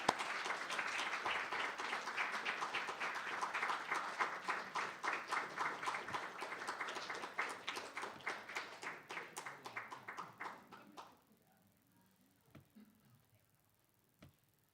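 Applause for award winners at a university social media awards event: a crowd claps steadily for about eleven seconds, loud and dense, then fades to a few scattered claps and near silence.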